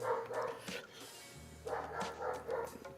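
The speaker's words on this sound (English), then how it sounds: "I don't know if you guys can hear the dog, but he wants people to come play with him" A pet dog named Buddy barks in repeated bursts indoors, a few short clustered woofs at moderate distance, with a low steady hum underneath.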